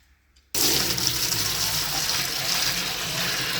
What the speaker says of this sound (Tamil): இதை போய் ட்ரம்மில் ஊற்றிட்டு எவ்வளோ வெயிட் இருக்குதுன்னு பார்த்துடலாங்க